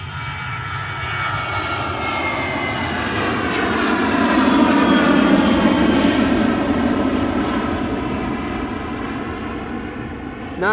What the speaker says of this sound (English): .737 from KLM will be passing up behind me and past me.